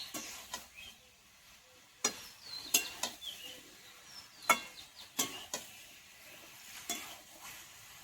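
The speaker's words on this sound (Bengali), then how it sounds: "এবার সয়াবিনের সঙ্গে মশলা একটু কষিয়ে নেব।" Soya chunks and potato are sautéed with spices in a pan, a quiet background sizzle punctuated by irregular sharp clinks and scrapes of a spoon against the pan.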